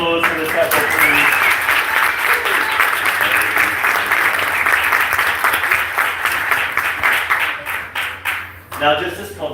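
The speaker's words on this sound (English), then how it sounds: "Can we get a round of applause for the teppo," An audience claps for a sumo teppo demonstration: loud, dense, sustained applause that fades near the end, with a voice heard briefly at the start.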